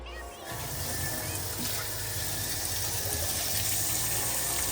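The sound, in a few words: dunk tank filling with water and reclaiming solution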